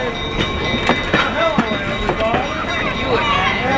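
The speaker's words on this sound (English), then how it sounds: "this Pullman coach is a real treat to ride on" Steady rumble and clatter of a vintage Pullman passenger coach rolling on rails, with intermittent squeaks and clicks from the car and wheels, continuous and close as heard from inside the moving train.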